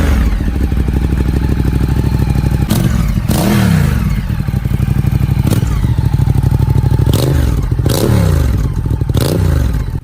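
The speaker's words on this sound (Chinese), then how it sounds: "谢大家听一下发动机声浪" A Ducati Diavel with a V-twin engine, six-speed gearbox and chain drive, revving loudly and close up, with a steady deep rumble broken by several sharp throttle blips.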